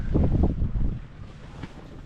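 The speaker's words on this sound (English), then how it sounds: "we're listening to the wind and the wires now, and the loons" Wind gusts across a sailboat anchored at Lake Superior, giving a loud, rough roar with microphone buffeting that eases after a second into a lower steady rush, with no talking.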